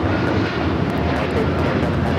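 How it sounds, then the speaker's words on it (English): A United Airlines Boeing 787-9 Dreamliner takes off at Los Angeles airport, heard as a steady, moderately loud engine rumble and hiss that stays even throughout the short stretch, with no voices. "United Airlines Flight 32 taking off to Tokyo Narita on the 787-9 Dreamliner"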